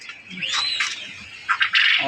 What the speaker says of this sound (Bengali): কত ছটপটা কবুতর